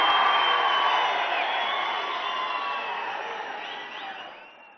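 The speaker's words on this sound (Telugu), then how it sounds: "అందరూ నిలబడి చప్పట్లు కొట్టాలని చెప్పి కోరుకుంటున్నా" A large crowd at a political meeting welcoming the chief minister cheers and applauds in a dense, steady wash that slowly fades away, with no single voice standing out.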